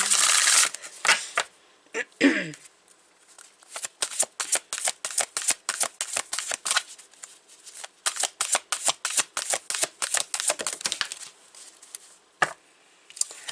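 A deck of chakra reading cards is riffled and then shuffled by hand in a long run of quick, crisp flicking bursts, close and clear, with a brief pause near the end.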